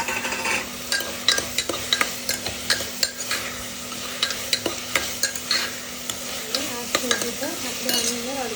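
Tomatoes go into a pan of sizzling eggplant and potato curry, with a spoon scraping and clinking against the vessel in repeated stirring strokes over a steady frying hiss.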